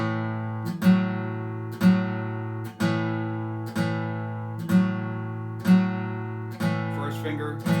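An electric guitar plays a repeating blues pattern with one picked note struck about once a second, each ringing and decaying before the next, alternating first and third fingers, close and clear with no talking.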